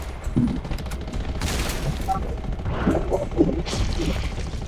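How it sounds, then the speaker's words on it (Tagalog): Gunfire in the Radiation Zombies video game, with scattered bursts of shots and impact thuds that come loud and close over a steady background rumble throughout, with no clear talk over it. "Baril ka ng baril."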